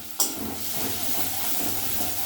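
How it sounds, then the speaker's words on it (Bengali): Onion, garlic and spices hit hot oil in a pan for a Bengali katla fish kalia, a sharp onset followed by a steady, close hiss and sizzle that holds without pause. "তেল গরম হয়ে গেছে, দিতে দেওয়ার সঙ্গে সঙ্গে ঝাঁঝ ঝাঁঝ করতে শুরু করেছে"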